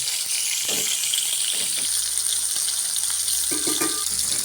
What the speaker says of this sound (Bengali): কড়াইতে তেল দিয়ে মাছটা দিয়ে দিলাম